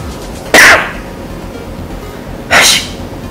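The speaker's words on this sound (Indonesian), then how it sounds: "itu etika batuk dan bersin yang benar" Two loud, abrupt sneezes or coughs into the inner elbow burst out about two seconds apart, close and slightly muffled, with quiet in between.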